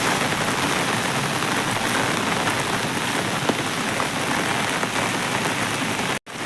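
Heavy rain pours down steadily in a dense, continuous roar under a culvert bridge on NH 66 at Randathani, Malappuram, with no voices; it cuts out abruptly for a split second near the end.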